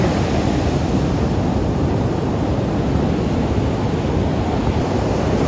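Strong surf pounding a beach at Pawikan Resort in Morong, Bataan, a loud, steady broadband roar with constant wind rumble and no break through the whole stretch.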